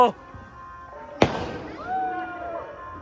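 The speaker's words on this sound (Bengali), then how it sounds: "শুভ 2টো রকেট একসঙ্গে ছাড়ছে, দেখা যাক।" Two firework rockets set off together, giving a sharp loud bang followed by a crackling burst and a rising whistle, with people talking throughout.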